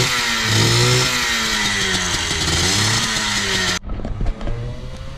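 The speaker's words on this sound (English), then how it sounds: "So let's go do some Volvo drifts." A Volvo 740 fitted with a 351 V8 of around 500 horsepower revs hard while street drifting, loud and sustained with wavering pitch, then cuts abruptly to quieter, choppier engine noise near the end.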